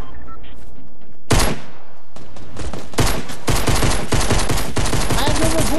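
Video game gunfire: a sharp shot, then sustained rapid automatic fire in dense overlapping bursts, loud and close throughout, with no talk.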